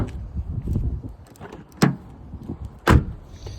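Heavy doors on a 1985 Honda car are slammed shut twice, each a solid, close thump with a short rattle, separated by quieter handling noise in between.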